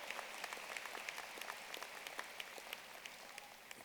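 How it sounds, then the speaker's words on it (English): A graduation crowd at a high school ceremony applauds its class officers, with thin, distant, fairly quiet clapping where individual sharp claps stand out against a soft continuous patter. "Let's give all of our class officers a round of applause."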